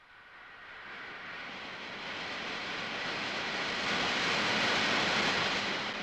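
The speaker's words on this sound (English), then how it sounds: "When the compressed air jet is turned on," A compressed air jet blows from a nozzle in a steady broadband hiss and roar that swells gradually and holds, with no other sounds or voices.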